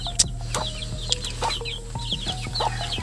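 Hens and chicks in a coop on a small farm: several hens cluck in short bursts while thin chick peeps repeat throughout, close and moderately loud, no talk.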